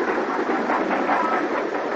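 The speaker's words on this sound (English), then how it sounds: "the Class 5, leaving the 4F pilot at the station, runs back along the up road to run without stopping onto the north" Class 5 steam locomotive running along a railway line, a loud, continuous rolling roar of train and wagons passing close by.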